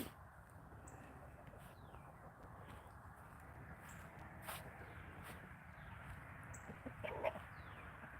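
Faint clucking from chickens and a rooster nearby on a farm, soft and scattered over a quiet outdoor background, with a brief louder cluck near the end.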